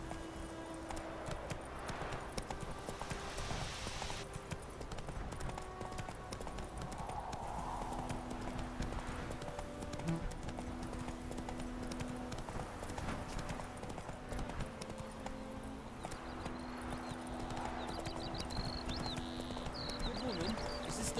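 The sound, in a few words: horse hooves clip-clopping while riding, The Witcher 3 video game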